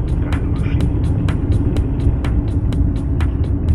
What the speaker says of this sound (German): ich liebe diese alten LKW. Die stinken zwar fürchterlich